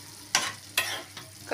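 A spoon stirs broad beans frying in a pan on low flame for a Tamil-style poriyal, giving three short scraping, sizzling strokes spaced about half a second apart over a faint steady background.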